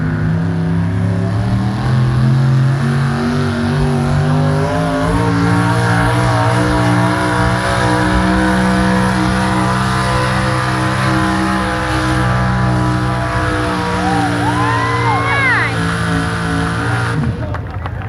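A Chevrolet pulling truck's engine roars loudly and steadily at a truck pull at Mercer Raceway Park, rising slightly in pitch, with a brief higher whine near the end.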